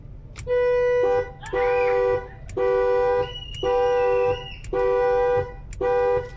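Horn of a Mercedes W210 V8 honking in six evenly spaced loud, sustained blasts, close by, with a brief voice heard between them.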